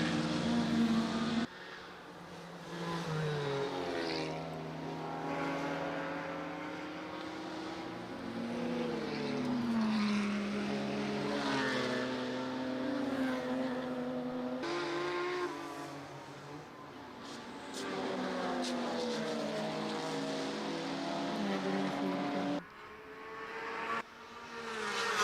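Race cars in a racing video game, including a Porsche, roar and whine continuously with shifting engine pitch as they battle closely for position.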